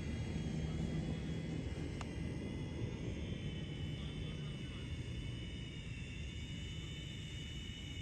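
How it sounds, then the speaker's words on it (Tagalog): Drone flying in strong wind at Costco in Saskatchewan, Canada: steady broad whirring drone with heavy wind rumble throughout, loud and continuous, with a faint tick near the start. "Malakas kasi ang hangin guys kaya nahirapan yung drone ko"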